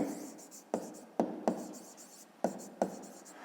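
Pen writing an answer for a fifth-grade maths exercise on factoring into primes, with short scratching strokes and several sharp taps of the pen on paper, close and fairly quiet.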